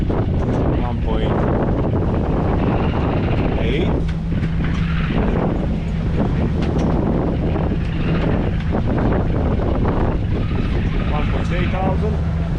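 A Dufour 520 Grand Large sailing yacht under way on open sea, with a steady rush of wind buffeting the microphone and a constant low rumble throughout as people talk aboard.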